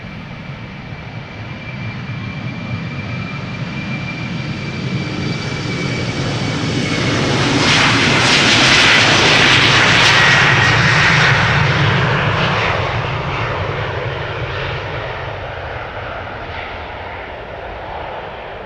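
A KLM airliner departing Amsterdam Schiphol for Edinburgh swells from a distant rumble to a loud close roar with a rising whine, peaking mid-pass before fading away as it moves off.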